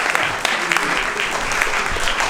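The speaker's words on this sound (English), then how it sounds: "Let's have a round of applause for Susan and the entire team." Brisk audience applause at the opening of the 2024 BJFF film festival, a short burst of many hands clapping with a few sharper individual claps standing out.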